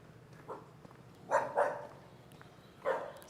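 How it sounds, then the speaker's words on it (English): A dog on a street in Hualien, Taiwan barks several times at moderate distance, a single bark followed by a quick pair and then another after a pause, over quiet outdoor background. "This dog is barking at me."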